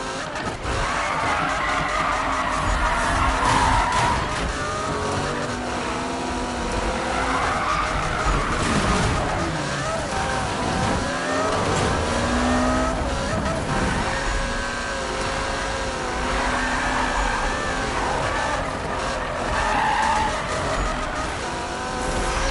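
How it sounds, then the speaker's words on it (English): A car drifts in the Need for Speed racing game, its engine revving steadily under continuous tire skids and squeals that rise and fall for the whole stretch, loud and close. "we're going out drifting tonight"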